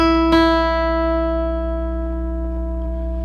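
A sustained plucked guitar note rings out with the second string struck just after, both tones holding and slowly decaying together as the pitches are matched.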